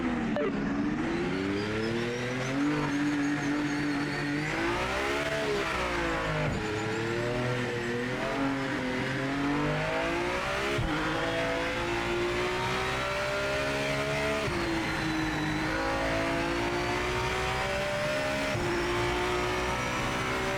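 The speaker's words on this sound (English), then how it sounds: "This car is a lot louder than the other one." A race car engine in the video game Project Motor Racing roars loudly and continuously, its pitch climbing and dropping through gear shifts, with occasional tire noise.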